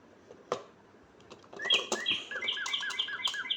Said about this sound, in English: it also has bird sounds